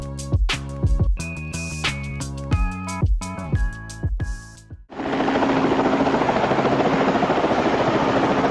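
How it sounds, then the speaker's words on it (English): Plucked, tuneful music gives way to the steady, loud, droning roar of a World War II Spitfire fighter's engine during a failed takeoff at Valais-Longen airfield, sustained and close. "a World War II-era Spitfire fighter was unable to complete its takeoff at Valais-Longen airfield"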